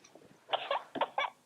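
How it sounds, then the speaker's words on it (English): A small girl gives a few short, breathy coughs in quick succession, close and fairly faint, with no talk during the bursts. "she's coughing badly"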